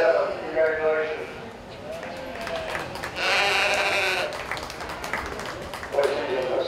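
Sheep bleat repeatedly at a 4-H county sheep show in an arena, the calls coming close and fairly loud in bursts over steady announcer talk and crowd murmur.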